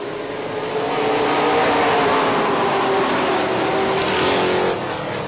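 Pack of racing trucks roaring away at the green flag at Charlotte, a dense, sustained engine drone that swells loud and steady, then eases slightly near the end, with no voices over it.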